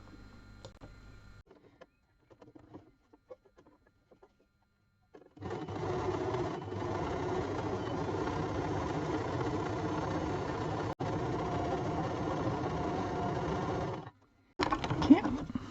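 A sewing machine doing free-motion embroidery texture stitching runs in a steady, close whir for about nine seconds after quiet handling noises, stops briefly, then starts again near the end.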